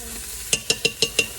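A spoon stirs through shepherd's pie filling in a pan, giving five evenly spaced scraping clicks against a low background sizzle, close and clear.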